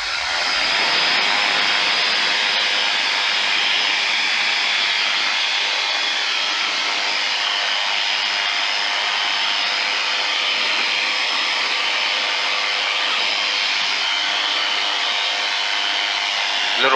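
Flexwing microlight aircraft engine droning steadily and loud throughout a crosswind takeoff, a dense continuous buzz with wind rush and no talking.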